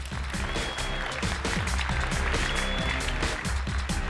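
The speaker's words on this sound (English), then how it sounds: "Round of applause for Nguyen." Conference audience at Atlassian Summit 2015 ShipIt Live applauds a presenter, a dense, steady burst of clapping from a large crowd filling the hall throughout.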